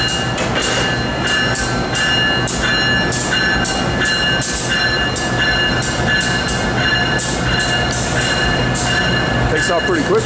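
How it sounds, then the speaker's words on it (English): An Amtrak train rolls out nearby, wheels clicking in a regular clickety-clack rhythm over a steady mechanical roar, with a voice talking over it. "Takes off pretty quick with the old train."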